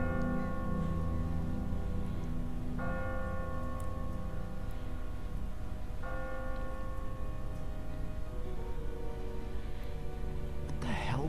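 A church bell tolls from a bell tower in the video game The Walking Dead, ringing struck notes whose long resonant hum carries across the scene, with faint voices at times.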